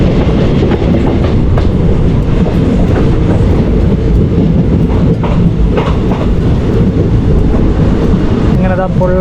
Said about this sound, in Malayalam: പൊള്ളാച്ചി റെയിൽവേ സ്റ്റേഷനിലേക്ക് നമ്മുടെ വണ്ടി എത്തിയിരിക്കുകയാണ്.